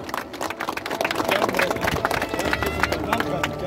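Crowd applause at an outdoor monument unveiling for a fallen soldier, dense and steady clapping from many people that swells slightly midway and carries on with crowd murmur underneath.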